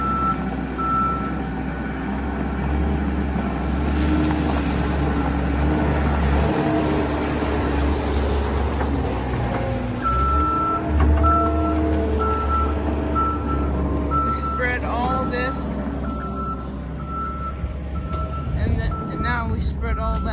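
A truck spreading gravel at a homestead site, with steady repeating reversing beeps over a constant engine rumble and scattered background activity, sustained throughout.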